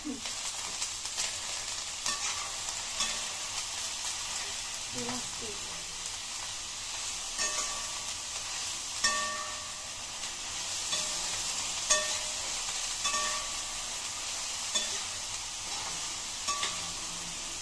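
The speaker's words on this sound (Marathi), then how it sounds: "परतून घ्यायचं याला सगळं" Schezwan fried rice being tossed and stir-fried, with a continuous bright frying sizzle and scattered soft clinks of a spatula against the pan, steady and close with no talk.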